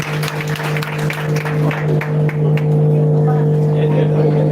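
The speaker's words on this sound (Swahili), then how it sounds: "Tumpigie makofi mazuri." A church audience claps for a guest named Marion Grace, a dense burst of applause over a loud, steady low hum that gradually fades into the background drone.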